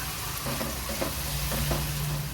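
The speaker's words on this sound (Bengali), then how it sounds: "পেঁয়াজটা এখন একটু ভালো করে লাল লাল করে ভেজে নেব।" Onions, about 350 grams, fry in a pan for a spiced chicken mince, giving off a steady, close sizzle with faint crackles and occasional stirring scrapes.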